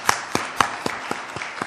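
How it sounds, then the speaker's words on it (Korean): Scattered handclaps from a church congregation, seven sharp claps spaced evenly about a quarter second apart, moderately close and fairly quiet with no voices over them. "격려하면서 축복하면서 박수 한번 보내주시면 고맙겠습니다"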